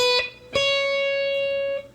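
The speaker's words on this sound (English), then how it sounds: "you could bend this up a whole step and it gets to the next note" Two sustained electric guitar notes ring out, the second bent up a whole step and held steady for over a second before cutting off, clean and moderately loud.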